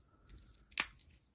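Scissors on a Victorinox Handyman multitool snip once, a single short crisp cut with a faint click just before it, close and quiet.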